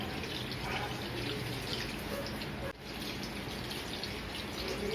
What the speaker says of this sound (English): now we are going to put some water in it